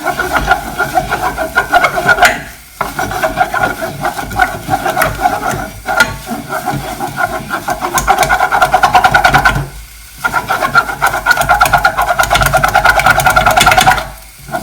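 Profiterole choux dough is beaten hard in a pan to cook out the flour, a loud, fast, rhythmic thumping and scraping that runs continuously with a few brief pauses.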